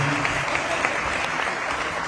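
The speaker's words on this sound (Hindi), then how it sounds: "आप जोरदार तालियों से अभिनंदन करिए।" Loud, sustained audience applause in a conference hall at a Delhi business community gathering, a thick continuous wash of clapping filling the whole moment without pause.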